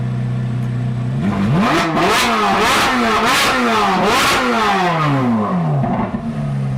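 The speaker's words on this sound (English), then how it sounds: "Never gets old. Z06 revs never get old." A Corvette Z06 engine revs hard again and again, each rev climbing and then falling back, loud and close with no talking.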